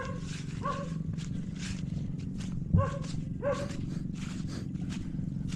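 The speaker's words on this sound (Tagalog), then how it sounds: "Dami mga aso ah." Several dogs bark outdoors in irregular clusters of sharp barks over a constant background hiss, moderately near, with one soft thump partway through and no talk.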